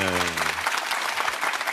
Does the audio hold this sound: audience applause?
yes